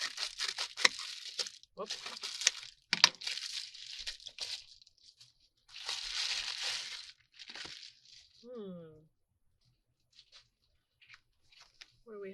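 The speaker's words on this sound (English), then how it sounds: "Let's cut this one open." A haul package is cut open and unwrapped, with bursts of crinkling plastic and tearing packaging in uneven bouts close by, then quieter rustles; a voice briefly exclaims.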